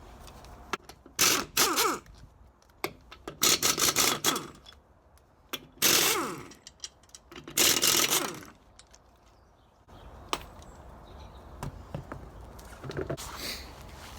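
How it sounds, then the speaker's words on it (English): A car jack raises a Peugeot 107, with bursts of ratcheting and cranking scrapes repeated in uneven spurts between quieter pauses, close by. "Let's jack this up in the air."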